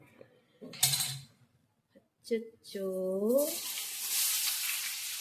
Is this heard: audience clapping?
no